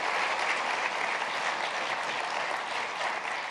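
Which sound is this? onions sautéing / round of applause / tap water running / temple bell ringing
round of applause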